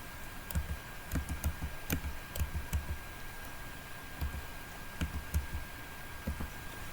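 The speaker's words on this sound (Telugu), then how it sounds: "నెంబర్ టైప్ చేస్తున్నాను." Typing on a computer keyboard while entering a phone number for WhatsApp setup on Windows 11, quick bursts of close key clicks with short pauses, no talk.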